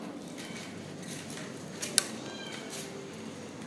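Cats meowing at a rescue shelter for cats and dogs: soft, fairly distant meows over a low room hum, with a brief clink of dishes near the middle.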